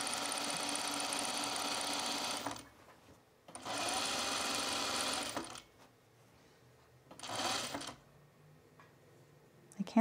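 A sewing machine stitches fabric for a tucked top while the fabric is pulled taut, running in three steady bursts of close whirring separated by short quiet gaps.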